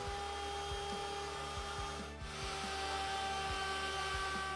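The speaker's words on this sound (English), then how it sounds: "Next I use a 45-degree chamfer bit to break the top edges" Router with a 45-degree chamfer bit breaking the top edges of an end grain wooden cutting board: a steady, loud motor whine with a dense cutting rasp, a brief dip in the middle, and rhythmic low thumps underneath.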